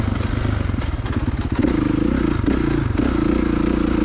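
A 2016 Kawasaki KX450 dirt bike ridden on a wooded trail, its engine a steady loud drone with revs rising and falling, under a constant clatter of the chassis over rough ground.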